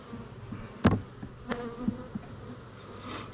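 Honeybees buzz close by around a disturbed hive, a low droning hum with several brief louder passes as individual bees fly near, fairly faint overall.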